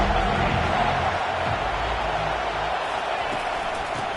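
Stadium crowd at a college football game roars steadily behind a defense on third down, a dense wash of cheering that stays loud throughout, with a commentator's voice mixed faintly into the noise.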